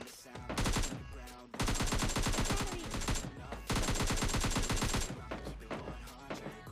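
Automatic gunfire in the mobile battle-royale game PUBG Mobile Lite comes in long, loud, rapid-fire bursts, with two sustained volleys split by short pauses and a trailing burst at the end.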